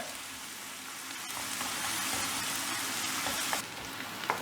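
Small onions and green chilies sizzle steadily in a hot pan while being stirred, a continuous broadband frying hiss with occasional scraping clicks, close and moderately loud with no talking.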